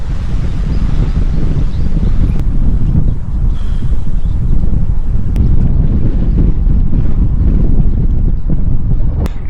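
Strong wind roars steadily across the microphone while cycling through rural Japan past rice paddies after rain, a loud continuous buffeting rumble with no voices.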